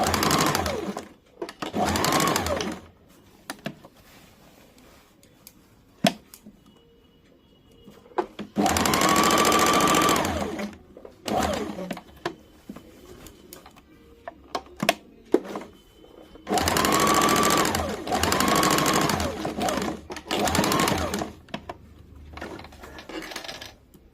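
An electric sewing machine stitches the shoulder seam of a kurti in several separate bursts of rapid whirring, with quiet pauses and small handling clicks between runs.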